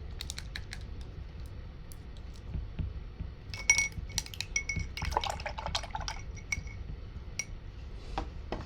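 A liner paint brush rinsed in a water cup during an acrylic painting session gives light clinks and splashy taps against glass, scattered and busier in the middle, close and quiet with no talking.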